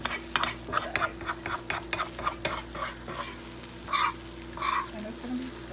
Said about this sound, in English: sliding the eggs off the pan so it can get to all the yolk. So all the yolk can cook